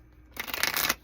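A short, close riffle of tarot cards being shuffled, a single dense burst of papery flutter lasting under a second that stops abruptly.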